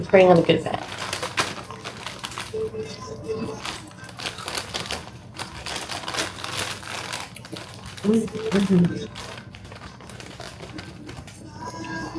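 Hot Cheetos are crushed inside a bag to make a bread coating for mozzarella sticks, with close, irregular crinkling and crunching heard under ongoing talk.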